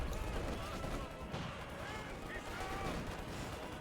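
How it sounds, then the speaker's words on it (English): Mortar rounds firing and booming in a Company of Heroes 2 online match, low thuds and scattered battlefield gunfire rumbling faintly beneath continuous commentary. "More mortar firing down here on HeartlessJ's men"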